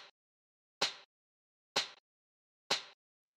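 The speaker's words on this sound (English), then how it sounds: "The next thing we have here is the snare," Snare drum sample for club music, struck four times at a steady slow pace, each hit a crisp, noisy crack with a short decay and silence between, played alone.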